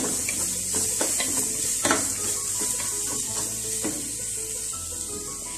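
Ginger garlic paste fries in a pan for a Chettinad mutton chukka, with a steady sizzle under repeated scraping strokes of a spoon against the pan, close and fairly loud, with no voices.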